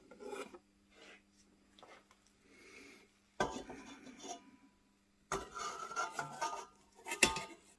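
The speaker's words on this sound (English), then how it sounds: "We now get our melted chocolate and add that to the cake mix" Melted chocolate being stirred into a beetroot chocolate cake batter, heard as quiet rasping scrapes and rubs of a utensil against a bowl, coming in short irregular bursts with a few louder clatters and pauses between them.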